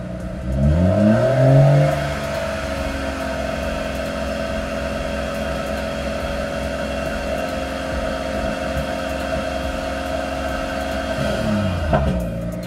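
A BMW M140 B58 car engine revs up quickly to about 3000 RPM, then holds at a steady high idle drone for several seconds before settling back down.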